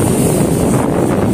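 Strong wind buffets the microphone on the Manila Bay shoreline, a loud, continuous roar over the whole moment with a low rumble of water underneath, and no voices.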